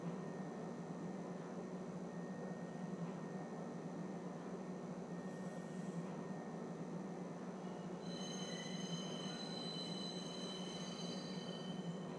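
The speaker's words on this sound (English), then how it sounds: "Now arriving, Tisa Spaceport. Please watch your step when disembarking the train." A train in Star Citizen pulls into Tisa Spaceport station, a steady rumbling drone with a high tonal whine. Brighter metallic squeals rise toward the end as it slows.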